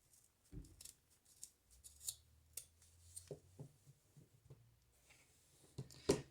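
Scissors snip through craft material for a dollar-store beehive project, a series of quiet, sharp cuts spaced irregularly, close and alone with no talking.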